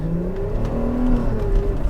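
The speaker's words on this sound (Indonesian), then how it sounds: "suara mesinnya jauh lebih racing daripada laju si mobilnya teman-teman" A first-generation Porsche Cayenne set up in rally overland style revs its engine: a steady, loud, close drone that swells slightly in pitch and level as the throttle is held, with no talk over it.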